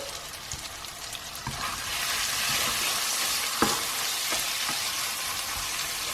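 Tomatoes fry and soften in a pan for a vegan Indian cabbage and chickpea curry, a steady close sizzle broken by a few soft clicks and knocks of a utensil, with no voices.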